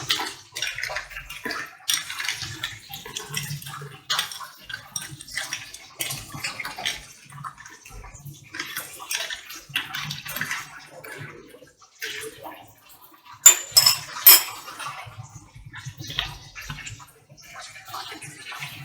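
A virgin mojito with 7-Up is stirred in a glass, giving soft irregular liquid swishes and light clinks, with a couple of sharper knocks partway through.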